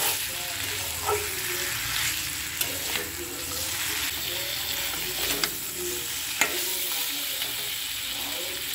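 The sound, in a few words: frying and stirring Gobindobhog rice in a pan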